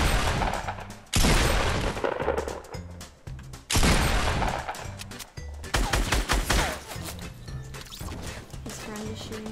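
Gunfire in Fortnite, heavy bursts of shots and loud booms arriving in waves, with people talking over the firing throughout.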